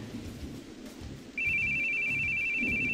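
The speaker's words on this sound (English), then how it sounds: "Your fucking phone is ringing." A mobile phone rings partway through, a sharp steady electronic tone that starts suddenly and holds loud over a murky low background rumble.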